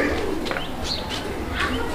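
Male Kakji pigeons coo in a loft, soft repeated throaty calls close by, layered with chirps and other birds in a busy background.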